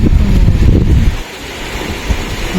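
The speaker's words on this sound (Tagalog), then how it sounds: "Medyo malakas na. Mahangin-hangin." Strong typhoon wind (Typhoon Pepito, Philippines) roars and buffets the microphone, a loud low rumble that drops briefly before gusting up again.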